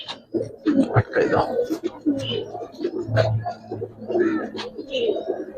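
A Giribaz pigeon held in hand coos repeatedly, low rolling throaty calls up close, mixed with voices speaking and some handling noise.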